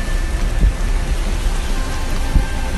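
Heavy rain pours during flooding in Arcoverde, Pernambuco, a dense steady roar with low rumbling thumps at a couple of points, close and loud, with no speech.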